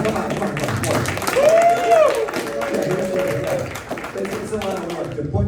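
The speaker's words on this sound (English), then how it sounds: "So let's give him another round of applause, please." Audience applause fills the hall with steady, loud clapping, and voices and a few cheers mix in over the crowd.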